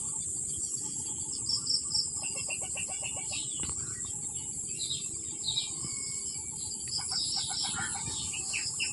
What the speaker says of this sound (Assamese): চৰাইৰ মাত